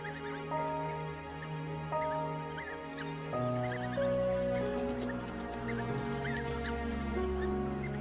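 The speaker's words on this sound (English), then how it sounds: "The pups make distinct chirping sounds and lick the mouths of the adults." High-pitched chirps and squeaks from African wild dog pups at their den come in quick scattered bursts, fairly faint over a low background rumble.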